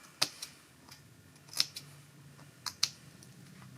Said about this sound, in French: on va venir cranter un peu les arrondis. Donc toujours avec la pointe de son ciseau